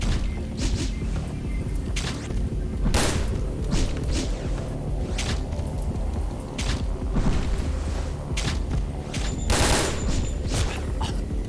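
Gunfire in the video game Dead Aim, a string of sharp shots and bursts at irregular intervals over a constant background rumble, close and loud, with no talk.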